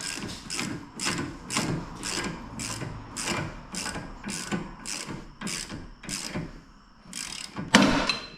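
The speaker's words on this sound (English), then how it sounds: "3/8 ratchet, 19 mil socket, 3/4 also works" A 3/8-inch ratchet turns a 19 mm socket to loosen a bolt on an Integra. Quick, steady clicking runs in regular bursts about every half second, then ends with a sharper clunk near the end.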